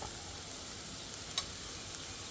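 Koorka pieces frying in a pan with chilli powder, turmeric and garam masala give off a faint, steady sizzle throughout, with one small click partway through and no talking.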